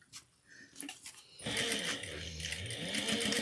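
A sewing machine backstitching a short 1/8-inch stitch: a few light taps and clicks, then the motor starts and runs in a steady, close whirring hum to the end.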